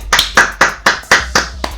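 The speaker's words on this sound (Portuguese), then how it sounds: "Obrigada, palmas." About seven sharp, separate hand claps from one person nearby, in a fairly steady rhythm.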